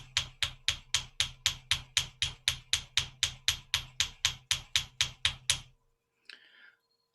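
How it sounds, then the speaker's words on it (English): Larger hammer striking chain loops, about eighteen sharp, evenly spaced metallic blows in a steady rhythm, loud and close, then stopping, followed by a brief faint scrape. "So now I'm going to take my bigger hammer"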